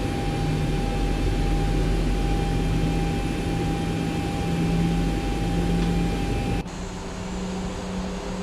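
A jet airliner taxiing at London Heathrow gives a loud, steady engine drone with a faint whine that holds evenly, then dips slightly near the end.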